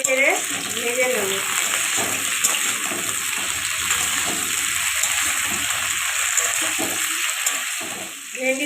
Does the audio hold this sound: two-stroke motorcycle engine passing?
no